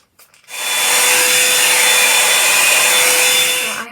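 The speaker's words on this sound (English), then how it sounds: "I'm just gonna use my blow dryer just to straighten them out a bit." A hair blow dryer switches on and runs with a loud, steady, airy whoosh close by, holding constant for a few seconds.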